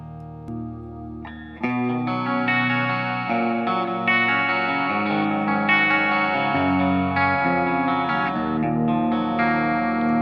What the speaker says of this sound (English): So we're using helix for the left and right, a nice wet ambiance, delays, reverb, some compression